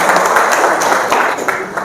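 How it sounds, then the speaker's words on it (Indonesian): An audience clapping at an educational event, a short dense burst of applause that stays close and fairly loud throughout, with some voices mixed in. "Berikan tepuk tangan."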